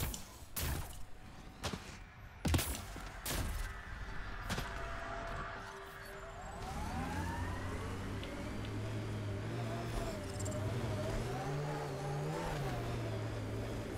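A vehicle driving in the video game Mass Effect Andromeda, with a few heavy thumps at first, then a steady engine drone that rises and falls in pitch as it accelerates.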